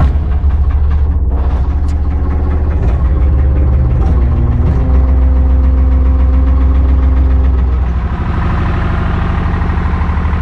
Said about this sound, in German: Ich hole mal den Bagger.